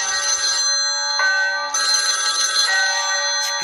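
A telephone rings with a steady electronic trill that repeats in bursts and carries on for several seconds. It sounds fairly loud and plays alone, with no talking over it.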